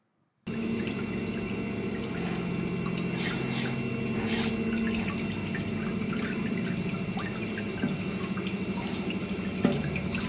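Water spraying steadily to rinse excess washable penetrant from a test object, a continuous hiss and splash with faint dripping, close and unbroken.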